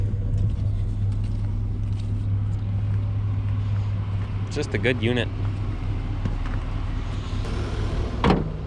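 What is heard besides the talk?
1993 GMC 1500 truck engine running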